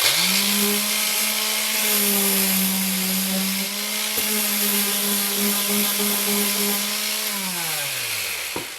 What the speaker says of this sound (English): Time to sand.